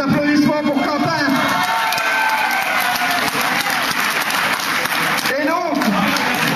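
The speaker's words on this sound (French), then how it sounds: "ça mérite un peu plus d'applaudissements pour Quentin" Applause for a young prize winner at a French awards ceremony, steady crowd clapping with some cheering and chatter mixed in throughout, dense and fairly close.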